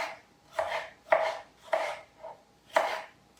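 A knife chops red pepper and green onions on a board: six separate, evenly spaced cuts, quiet and close, with nothing else between them.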